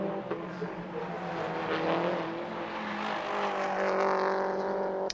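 Racing cars battling on a track during an overtake, engines droning loudly and rising in pitch as they pass close by, with a brief commentator's voice underneath.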